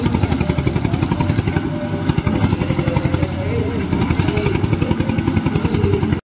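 A tractor stuck in mud in a village strains with a loud, close, chugging engine throb that pulses rapidly and steadily before cutting off abruptly, with people talking over it.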